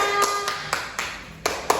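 A school class claps at a peer-teaching session, heard as a handful of sharp, separate hand claps spaced unevenly over a low, steady room background.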